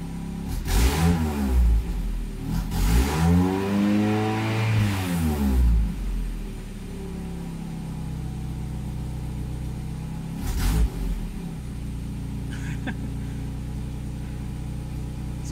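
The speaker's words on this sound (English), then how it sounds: "Let's give it a rev." A Mazda Miata engine fitted with a custom intake and no MAF sensor, running rich, revs up in several loud swelling blips close by, then settles back to a steady rumbling idle between throttle bursts.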